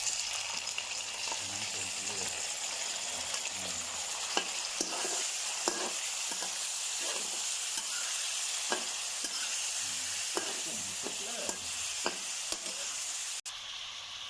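Shrimp sizzle and fry steadily in a hot oiled pan, with repeated clinks and scrapes of a utensil stirring throughout.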